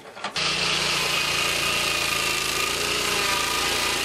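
A chainsaw or mobile sawmill running steadily at community forest logging in Cameroon, loud and close, with a sustained engine drone that starts abruptly after a brief knock and continues without letup.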